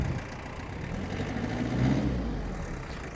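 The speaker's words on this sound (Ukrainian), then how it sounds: "Сигнал працює, ось наш вихлоп." Yanmar FX-42 mini tractor with 988 engine hours runs its small engine, a steady low rumble and exhaust drone that swells slightly midway, close and continuous with no talk.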